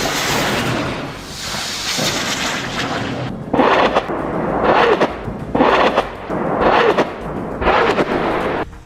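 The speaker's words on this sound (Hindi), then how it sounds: "इन रॉकेट्स के फायर होने के बाद वीडियो में कई धमाकों की आवाजें सुनाई दे रही हैं" Rockets fired at night in a war zone, with a sustained roaring rumble followed by a rapid series of heavy booming explosions, loud and a little distant, one after another in uneven rhythm.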